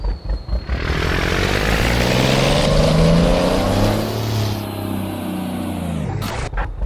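A truck engine in Euro Truck Simulator 2 revs loudly and continuously, its pitch climbing and falling in a synthetic, game-like tone before cutting off near the end.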